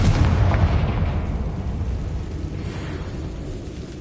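A Confringo spell blasts in Hogwarts Legacy inside a decayed catacomb, a loud booming fiery explosion up front that rumbles and slowly fades over several seconds.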